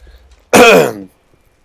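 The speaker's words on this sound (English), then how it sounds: "I've got like raisinette back cough going on." A single sharp cough merged with throat clearing, close and loud, lasting about half a second between quiet stretches.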